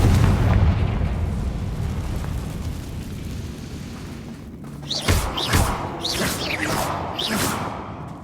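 Confringo explosive spells in Hogwarts Legacy give a deep rumbling blast that fills the start, then a rapid series of sharp, bright bursts follow one after another, loud and close.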